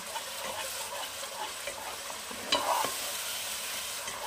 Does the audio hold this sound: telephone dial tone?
no